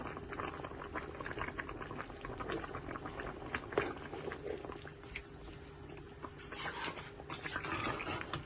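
Hilsa fish curry boils in a pot, with constant close bubbling and popping and occasional louder pops over a low hiss.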